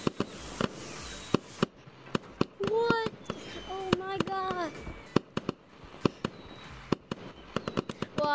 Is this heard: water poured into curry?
no